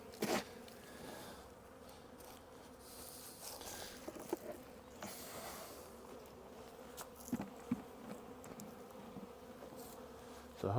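Honey bees buzz steadily around an open hive during a spring inspection, a low continuous drone with a few louder passes close by and occasional handling noises.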